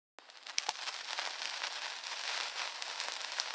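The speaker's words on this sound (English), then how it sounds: "That's a sparkler lighting up smiles and summer skies on the 4th of July." A 4th of July sparkler burning: it catches with a sudden hiss and a few sharp pops, then settles into a steady, fizzing crackle that stays close and fairly quiet throughout.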